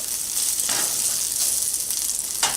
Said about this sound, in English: Keep heating up the pork while stirring it around in that oil